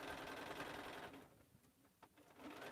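A sewing machine stitches regular cotton lining on a lined stocking, its steady fast mechanical whir running loud and close, then easing to softer intermittent stitching with a small clack before speeding up again.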